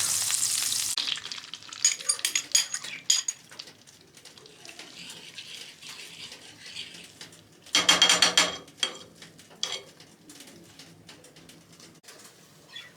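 Eggs with grape molasses fry in a pan on a wood stove, a steady close sizzle with bursts of louder crackling and stirring scrapes, and faint bird cooing in the background.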